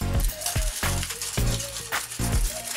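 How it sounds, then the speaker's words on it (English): Tin foil scrubbing rust off the chrome rim of a vintage Kalkhoff Team BMX makes close, scratchy, crinkling strokes in an uneven back-and-forth rhythm, with short harsh bursts and no voices. "make too much noise with the tin foil"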